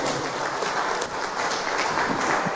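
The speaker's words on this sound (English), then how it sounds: "Thank you for the applause." Steady, dense applause fills the hall at the launch of a TNM Tikolore promotion in Malawi, many hands clapping together loudly and continuously with no speech on top.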